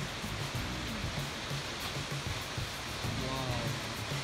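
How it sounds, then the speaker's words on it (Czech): Waterfalls in Bali roar as a constant broad wash of falling water, loud and close, while people talk over it at intervals. "Nejkrásnější vodopády"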